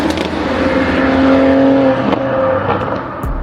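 A tuned Toyota Supra with a Stage 1.5 B58 engine making about 400–420 hp pulls hard under acceleration, heard from inside the cabin as a loud, steady, rising engine drone with no talk.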